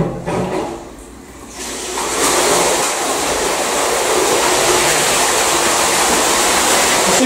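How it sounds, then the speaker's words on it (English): Steady rushing spray of water hitting an inward-opening flood door, starting quieter then swelling to a loud, continuous hiss that carries on without pause. "we're playing the water onto the door"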